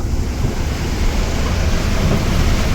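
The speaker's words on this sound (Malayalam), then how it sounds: "അതാ മക്കളെ പെരും മഴയാണ് കേട്ടോ നല്ല വെടിച്ചില്ല മഴ" Heavy monsoon rain heard from inside a moving vehicle travelling slowly and carefully, a dense, steady roar of downpour and road noise filling the cabin without a break.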